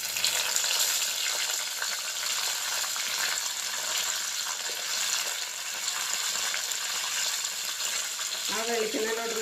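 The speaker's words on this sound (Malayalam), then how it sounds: "ഇതിനകത്ത് നമുക്ക് കരിയാപ്പില ഇടാം." Curry leaves fry in hot coconut oil with a steady, bright sizzle that holds evenly from start to finish, a voice briefly speaking near the end.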